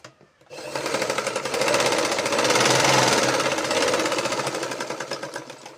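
A sewing machine stitches a blouse in a fast, rhythmic, loud rattling run. It starts after a brief pause, holds steady for about five seconds, and eases off slightly at the end.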